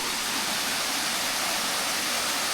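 Indagan Falls in Southern Leyte roars as a steady, dense wash of falling water, loud and continuous with no pauses or voices.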